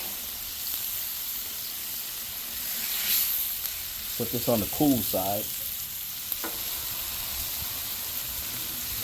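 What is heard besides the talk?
food sizzling on Member's Mark 5-burner griddle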